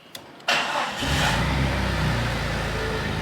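A starter cranks briefly, then the Morrvair car's engine catches and settles into a loud, deep, rumbling idle close by.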